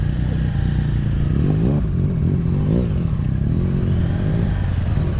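A Yamaha MT-07 motorcycle idles and runs, a steady loud engine drone with small rises in pitch, up close and continuous, with no one speaking.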